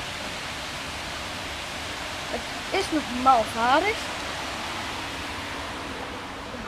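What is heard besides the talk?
Opwetten water mill with river water rushing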